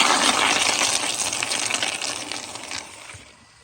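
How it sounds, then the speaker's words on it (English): A 1999 Kohler Highcrest toilet flushes with a strong, close gush of rushing water that holds for a couple of seconds, then thins and fades as the bowl drains, with no talking over it. "But here's another flush"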